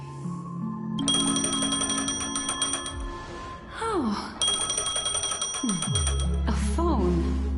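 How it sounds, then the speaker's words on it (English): A phone rings in the video game Honkai Star Rail: bright, repeating electronic ring tones layered over the game's music and effects, with a short gasp-like voice partway through. "A phone. Wanna listen in?"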